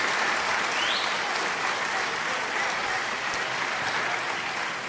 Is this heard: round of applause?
yes